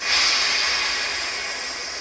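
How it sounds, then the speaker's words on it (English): A loud, steady hiss of air bleeding from a newly installed Johnson water heater's relief valve, strongest at the start and easing slightly as it continues, with no voices. "Just bleeding the air out of the system right now,"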